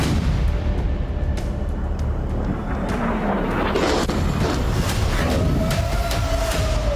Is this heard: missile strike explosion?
yes